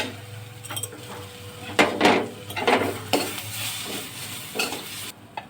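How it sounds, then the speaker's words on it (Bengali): Ginger-garlic paste frying with cumin, coriander, cardamom, turmeric and chili while being stirred in a pan for Hyderabad-Kolkata style singara filling, a steady close sizzle broken by repeated scraping and clinking strokes of the spoon. "ভালো করে নেড়ে চেড়ে ভেজে নেব।"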